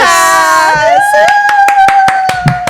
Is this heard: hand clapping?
yes